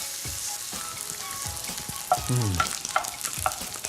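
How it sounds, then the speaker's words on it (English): Minced meat frying hard in a hot pan, sizzling steadily with scraping stirs and a few sharp clinks of a utensil against the pan; no voices. "frying off the mince for colour is so important"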